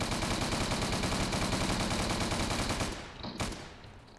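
Rapid gunfire from Roblox Prison Life crackles in a dense, continuous burst for about three seconds, then breaks off into a few scattered, fading shots.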